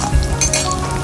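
Chopped garlic cloves sizzle and fry in a hot kadhai, a steady close crackle with a brief stir near the start.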